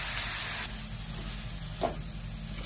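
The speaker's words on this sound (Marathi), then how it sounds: "आता मी ही कढई गॅसवर ठेवले, त्याच्यात तेल टाकले। आता हे वाटण मी टाकत आहे।" Ground spice paste dropped into hot oil in a kadhai on a gas stove, cooking for a shark keema: a loud, steady, close sizzle that crackles throughout, with a brief stir sound partway through.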